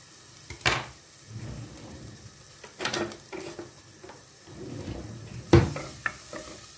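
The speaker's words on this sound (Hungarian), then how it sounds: "Belehúzzuk a fokhagymát, és egy kicsit körbepirítjuk" Garlic fried in olive oil sizzles softly in a pan, with scattered stirring scrapes and a few sharper utensil knocks against the pan, fairly quiet and with no voices.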